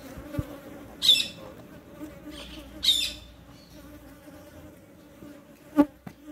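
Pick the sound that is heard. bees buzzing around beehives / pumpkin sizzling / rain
bees buzzing around beehives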